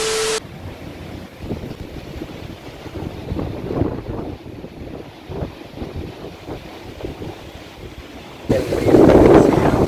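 Steady wind buffets the microphone over lapping water on a riverbank at Punta Lara during fishing, a continuous rough rush that swells louder near the end, with no voices.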